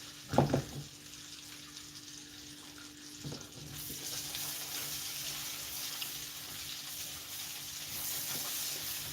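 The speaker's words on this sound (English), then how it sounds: "let's fry some onions as well" Onions frying in bacon fat, giving a steady, broadband sizzle and hiss that grows slightly louder over time, after a brief clatter at the start.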